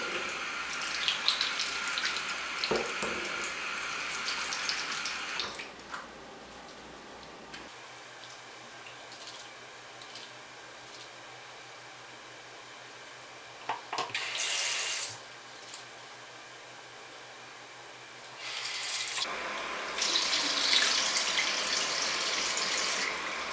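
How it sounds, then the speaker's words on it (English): Tap water runs into a sink during a face wash, a steady splashing hiss heard in bursts, stopping and starting again near the end. "I'm going to go ahead and wash my face real fast."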